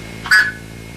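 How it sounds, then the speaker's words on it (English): One brief Blue Box start transmission (ST) tone, a 1500 and 1700 Hz dual beep lasting a fraction of a second, clear and alone. "is composed of a 1500 Hz tone and a 1700 Hz tone"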